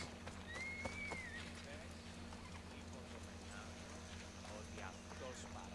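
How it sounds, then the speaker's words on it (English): Hoofbeats from a horse in Assassin's Creed Odyssey sound faintly under a steady game ambience and music, with a soft neigh early on. "Probably a good idea to not just ride it on my horse."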